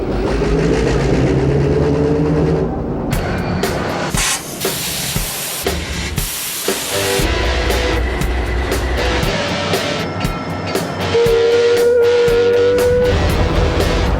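A railroad rotary snow plow is revved up, giving a loud, close mix of hissing steam and heavy mechanical roar. Bursts of harsh noise swell and drop over a constant rumble, with no talking.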